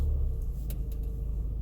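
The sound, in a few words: BMW Z4 car reversing automatically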